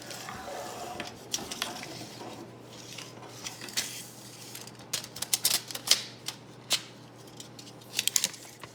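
A Camnoon telescoping selfie stick, adjustable from 23.5 to 120 cm, is pulled out to full length, giving sharp metallic clicks and scrapes that come in quick bursts as each section slides and locks.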